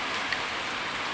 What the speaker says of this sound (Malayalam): കാരണം നല്ല മഴയാണ്